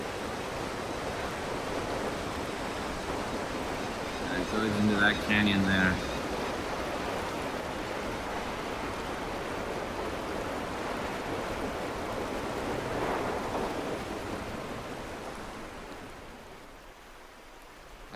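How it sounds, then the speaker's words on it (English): River rapid and big waterfall in an Arctic canyon, a steady broadband roar of rushing water that fades slightly near the end, with someone speaking briefly over it. "There's a big waterfall there and another canyon."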